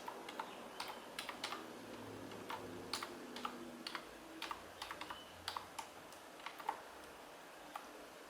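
Computer keyboard keys tapped to enter a command while installing OS X on a Hackintosh, a quiet, irregular run of close clicks with no voices.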